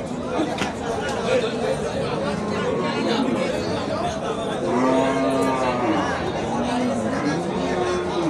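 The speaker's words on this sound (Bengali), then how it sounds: "গাভী গরু।" Cows moo in long, drawn-out calls at a busy cattle market in Badarganj, Rangpur, rising over a constant murmur of people talking nearby.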